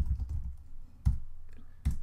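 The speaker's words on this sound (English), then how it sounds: "type in sudo kill all node" A computer keyboard being typed on to enter a terminal command: a few sparse, soft keystrokes and thumps, close and alone with no voices.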